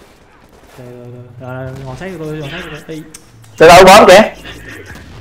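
A short, loud burst of gunfire erupts in Tom Clancy's The Division, Clear Sky DLC on PS4. It lasts about half a second amid steady in-game sounds, and players talk before it.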